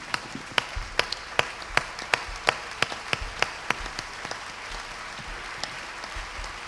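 A congregation claps through a church service, with scattered sharp claps standing out over a steady wash of crowd noise. It is fairly close and continuous, with no clear cheering voices.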